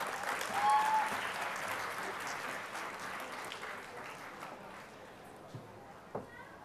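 Steady applause from a large audience at a medical college ceremony, broad and sustained, gradually thinning toward the end with a couple of isolated claps.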